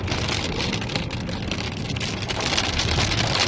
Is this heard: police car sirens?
no